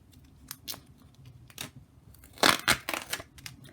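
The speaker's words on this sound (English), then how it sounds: "And cut it in half." Scissors cut black foam tape in a series of close snips and crunchy cuts, sparse at first, then a louder cluster of rapid cuts, quiet between with no talking.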